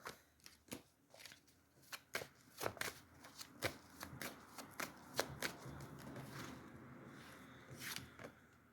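A deck of oracle cards is shuffled up close, bursts of riffling and sharp slaps arriving in an uneven rhythm with brief pauses between, quiet and with no talking.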